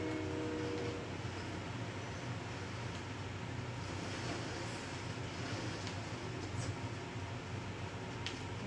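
A train in the game Fortnite rumbles past in a steady, loud roar of rolling wheels. A brief horn-like tone sounds at the start.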